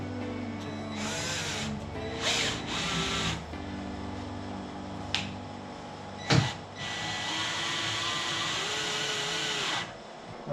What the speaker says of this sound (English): now I'm going to pull that out and install my self-tapper.